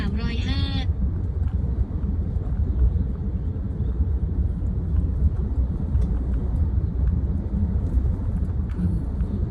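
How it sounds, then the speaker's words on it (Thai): Car driving at night on highway 305 near Nakhon Nayok, a steady in-cabin road rumble and engine drone throughout, with a brief tonal chirp at the start. "ขับต่อไปบนถนนหมายเลข 305 อีก 62 กิโลเมตร"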